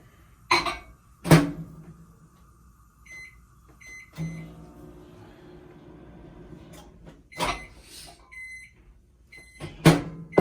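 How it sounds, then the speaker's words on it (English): A microwave oven heats a mug of coffee: door and button clicks, a beep, then a steady low hum while it runs, followed by sharp beeps and the door handling near the end. "we actually are going to microwave this for 30 seconds"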